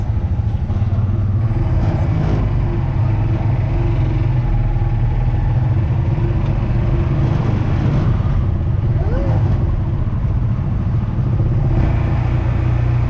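Busy road traffic near a terminal, a constant low rumble of cars and motorcycles with occasional engine revs rising above the drone.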